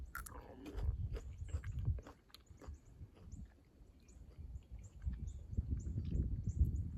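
Someone chews fresh raw asparagus picked from the garden, giving close, soft crunching and biting in bursts, with birds chirping faintly outdoors.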